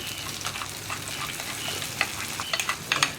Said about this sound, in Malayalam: നമ്മൾ റെഡിയാക്കി വറവ് നമുക്കിനി കറിയിലേക്ക് ചേർത്ത് കൊടുക്കാം.